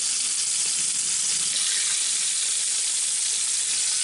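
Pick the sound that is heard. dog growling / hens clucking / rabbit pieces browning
rabbit pieces browning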